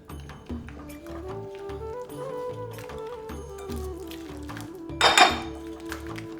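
A spoon clinks and scrapes against a bowl while chicken malai tikka marinade is mixed, soft tapping under background music with a brighter clatter near the end.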